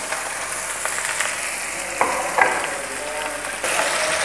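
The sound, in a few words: garlic and spring onion sautéing in a pan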